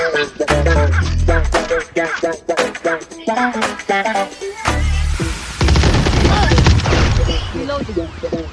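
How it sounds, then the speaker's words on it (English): Swarm grenades bursting during a Valorant match: rapid rattling bursts of small blasts mixed with gunfire and booms, loud and dense, with in-game voice lines over the action. "Placing swarm grenade. Swarm grenade out."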